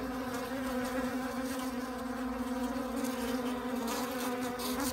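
Bees buzz at the vent of a hive in a dense, steady drone that stays close and constant throughout, with no voices over it.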